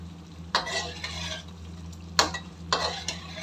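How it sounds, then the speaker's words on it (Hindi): Green chicken karahi sautéing in a pan, a steady sizzle broken by three scraping stirs of a spatula against the metal, close and clear with no talking. "5 मिनट तक हम इसकी और भुनाई करेंगे"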